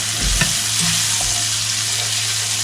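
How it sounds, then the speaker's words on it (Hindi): Chopped garlic and a large piece of cinnamon fry in melted butter, making a steady close sizzle with a few soft stirring knocks early on and no speech. "अभी चॉप किया हुआ लहसुन डाल दिया हमने इसमें। इसको थोड़ा सा फ्राई कर लेंगे"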